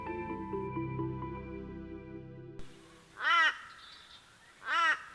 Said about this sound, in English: An early morning wake-up call from a rascally crow has Wilms up